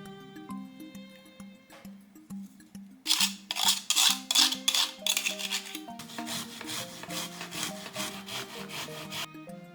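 Fresh ginger scraped back and forth on a grater for a pork banh mi marinade: rapid rhythmic rasping strokes in two bursts, close and crisp, over soft background music.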